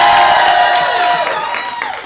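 A studio audience at a game-show match votes with a loud burst of clapping mixed with cheering and whoops, tapering off over about two seconds.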